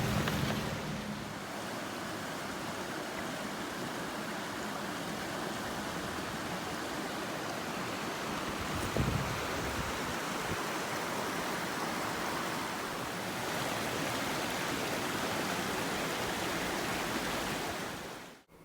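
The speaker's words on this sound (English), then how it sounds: "This one is called Falling Waterfalls." A small roadside waterfall in the Arkansas backcountry gives a steady, broadband rush of falling water that runs unbroken and fairly loud, close by, with no voices.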